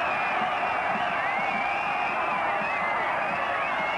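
A 1972 Colchester versus Leeds football crowd whistles for time: many shrill whistles waver and overlap above a constant dense roar of the stadium, sustained throughout.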